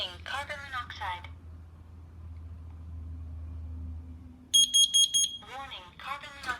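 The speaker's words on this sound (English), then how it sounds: "So it's going to go through the carbon monoxide. Warning, carbon monoxide." A smart smoke alarm sounds its carbon monoxide warning with a quick series of four loud, shrill beeps. Stretches of speech come before and after the beeps.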